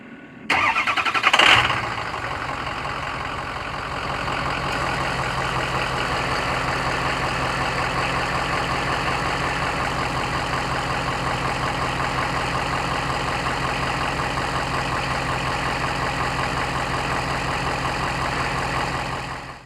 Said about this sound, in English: we're going to show you a clip of it starting up, and it's cold